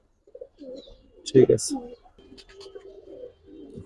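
Giribaz pigeons, a male pair, give soft, close, throaty coos in short bursts, with a voice talking over and between the calls in a quiet indoor space.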